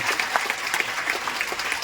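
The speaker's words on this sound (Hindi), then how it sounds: "तालियां होनी चाहिए सर के लिए" An audience at a speech aboard the Cordelia cruise ship claps steadily, with sharper individual claps standing out of the continuous applause.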